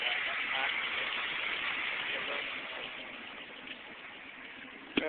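A propane-fueled car engine runs at a slightly high idle, giving a steady, muffled mid-range drone with no change in pace, and voices murmur over it.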